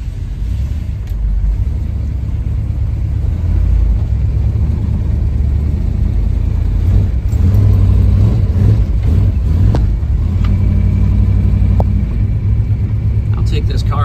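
A 1970 Chevrolet Chevelle's engine rumbles steadily at close range for the whole stretch, with a few rises in revs over the low idle.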